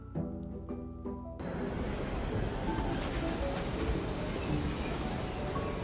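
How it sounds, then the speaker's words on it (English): Tram from a video game rolling steadily along rails at night, a loud continuous rumble with faint wheel clatter and squeal, following a brief quieter stretch with soft tones at the start. "we bike across half the city and catch a tram. It carries us past plains swallowed by the night."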